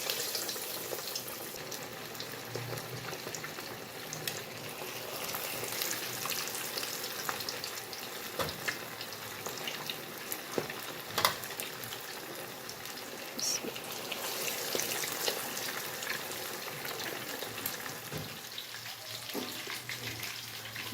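Marinated fish pieces sizzle and crackle steadily in hot oil in a home kitchen, a dense continuous frying hiss with occasional sharper pops, close and loud, carrying on alone throughout.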